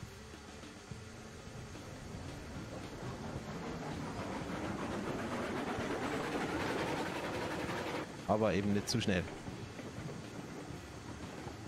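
Locomotive rolling along the tracks in the train simulation game Railroads Online, a steady mechanical rumble and clatter that swells gradually, with someone talking over it and a brief squealing burst near the end.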